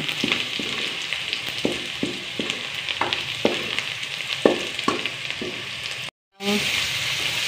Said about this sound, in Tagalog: Igisa ko na yung bawang. Kaya muna natin mag-brown.